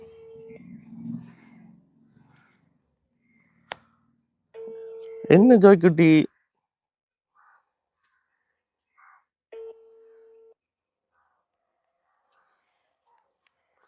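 A phone call rings out with no answer: sparse, evenly spaced electronic ringback tones separated by long silences, with a brief murmured voice near the start.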